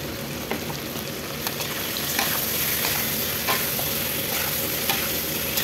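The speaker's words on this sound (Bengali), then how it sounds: "এখন ভালো করে কষাইয়ে দিতে হবে বন্ধুরা, সুন্দর করে কষাই দিতে হবে।" Chicken, potatoes and ash gourd stir-frying in a pan give a steady sizzle and crackle, with scraping stirs recurring every second or so, close and moderately loud with no talking.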